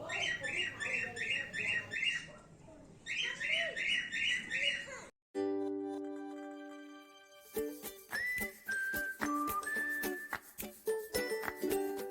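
Birds near the zoo in Nainital call with repeated squawking and chirping bursts for about five seconds, then a break, followed by tinkling, whistle-like tones and sharp clicks.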